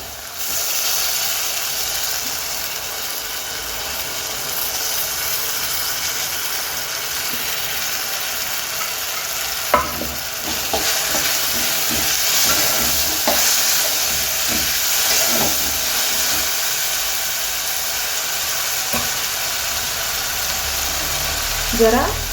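Soaked dal hits a hot pan for a simple fenugreek-leaf bhaji and keeps up a continuous close sizzle and hiss, broken by occasional scrapes and knocks of stirring.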